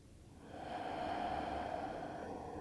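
A slow, calming breath during a grounding vinyasa yoga flow, one long soft airy exhale swelling and holding steady, quiet and close with no talking.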